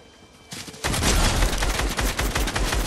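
Rapid bursts of video game gunfire erupt after a brief quiet start, a loud dense crackle of repeated shots that continues without pause.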